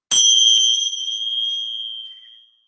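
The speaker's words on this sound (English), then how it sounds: "we'll begin with the bell" A single bell or singing-bowl strike opens a yoga session, ringing out loud and clear, then a long pure tone decays slowly over about two seconds, alone in a quiet room.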